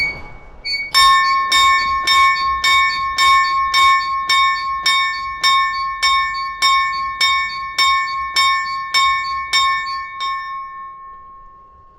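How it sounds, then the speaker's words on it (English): An old 1950s school bell at a museum in Forbes rings out in about fifteen evenly spaced, bright metallic strikes, each ringing on and fading, loud and close with no talk. "This is the school bell that we remember from the 1950s when we were at school here in Forbes, and this is the familiar sound."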